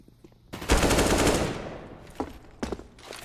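A loud burst of automatic gunfire in a CS:GO match, a dense rattling volley that fades over about a second, followed by a few sharper isolated shots close by.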